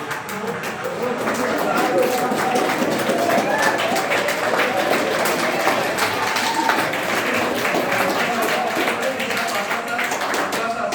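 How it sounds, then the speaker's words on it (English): Sustained applause from a crowd celebrating the Chandrayaan-3 soft landing on the Moon, a dense, even roar of clapping that swells in and holds steady, with voices mixed in. "A big clap."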